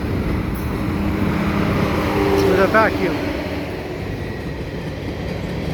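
A CN freight train rumbles past nearby at Marshall Avenue in Dorval, with steady low-end roar and a brief squeal of wheels midway, while a person talks over it.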